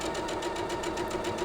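Sewing machine stitching a quilt top, its needle running in a fast, steady rhythmic whir with regular pulses, close and continuous throughout.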